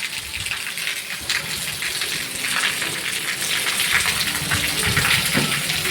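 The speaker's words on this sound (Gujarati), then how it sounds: "વરસાદ અત્યારે લાઈવ ફાઇનલી ચાલુ છે." Heavy rain falls steadily and close by, a dense continuous gush of water pouring and splashing on surfaces, swelling slightly louder partway through with no voices.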